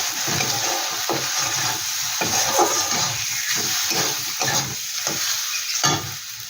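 Ground cumin, coriander and Kashmiri chili powder with salt frying and being stirred in hot oil in a pan, a steady close sizzle broken by regular scraping strokes of a spatula, with no voices.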